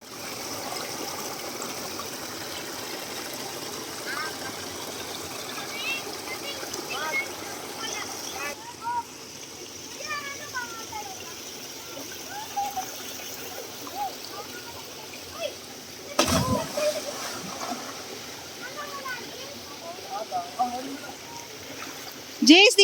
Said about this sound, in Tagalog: ganyan yung ilog dito, di ba?